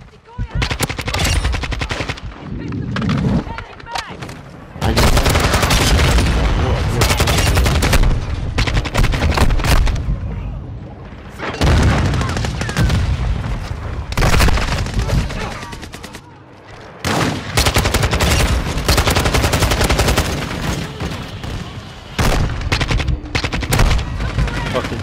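Sustained automatic fire from a Kastov 74u in Modern Warfare 2 on the Shipment map: long, loud, dense bursts broken by short pauses, with explosions and other gunfire mixed in across the chaotic match.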